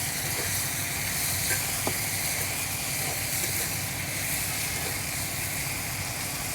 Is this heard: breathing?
no